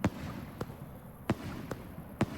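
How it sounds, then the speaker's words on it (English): Firecrackers in the fireworks game Fireworks Mania go off in four sharp, separate cracks spaced out over steady background hiss, each bang loud and abrupt. "So North, if you're gonna make firecrackers, then please use these sounds"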